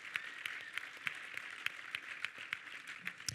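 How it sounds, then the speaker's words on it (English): A film event audience breaks into a round of applause, a fairly faint, even wash of clapping with distinct claps recurring at a steady pace throughout. "Just give them a huge round of applause."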